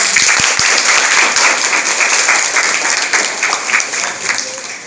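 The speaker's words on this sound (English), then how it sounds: "so now everybody clap again" A classroom of students claps together after a memory game, with sharp hand claps close up that blend into a continuous round of applause and slowly fade toward the end.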